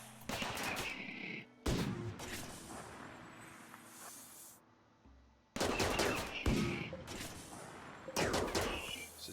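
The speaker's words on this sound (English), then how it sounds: "it is time for me to turn on all the turrets. And I'll fire from here." Turrets and guns fire during a video game raid fight against mechanoids: loud bursts of rapid shots, a lull of quieter rumble, then more dense volleys.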